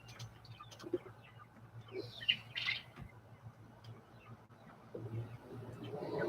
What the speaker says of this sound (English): not so much enjoying noisy birds behind me